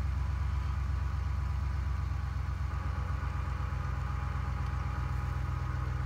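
A 2017 Ram 1500 Rebel pickup truck engine idling, a steady low throbbing hum that stays constant and fairly loud throughout with no talk.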